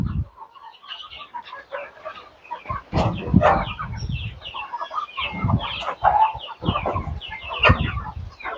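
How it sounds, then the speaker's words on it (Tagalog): Several chickens on a farm cluck and chatter in short, overlapping bursts, close by and fairly loud, with no talking over them. "Mga manok."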